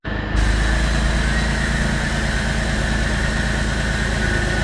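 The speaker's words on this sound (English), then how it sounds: "I'll start the car so you can hear it run." A 1989 Chevrolet Cavalier Z24 with a 2.8 V6 and freshly replaced spark plugs and wires runs with a steady, loud, close engine drone right after starting, with no talk.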